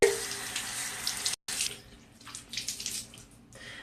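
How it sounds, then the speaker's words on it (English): Tap water runs into a sink while a face is rinsed with cool water, a close, hissing steady flow broken by a brief cutoff, then uneven splashing as hands scoop and splash water. "now I'm just going to rinse off one more time with cool water."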